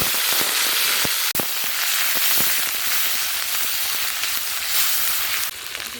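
Loud, dense sizzle of onion paste and five-spice seeds hitting hot mustard oil, a constant bright hiss with scattered sharp pops and crackles from the spices, no voices.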